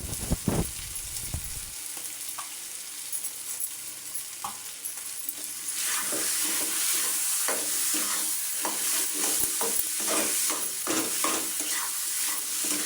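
Potatoes and eggplant with salt and turmeric are stirred in a hot pan. First comes a faint sizzle with a few scrapes, then a louder, dense frying crackle with repeated spoon scrapes, close and without talk.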